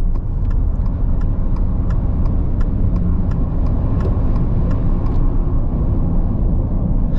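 A Subaru Solterra electric SUV with motor units rated 80 hp each accelerates in normal mode, giving a steady, loud broadband road and motor rumble that holds throughout with faint repeated ticks above.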